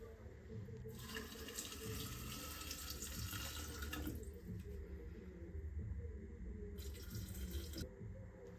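Water runs steadily as 0.7 liters is poured into each jar for a homemade rhubarb liqueur, a continuous close splashing stream with a louder burst near the start and another brief pour near the end.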